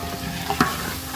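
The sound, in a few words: rice lightly frying in pan for biryani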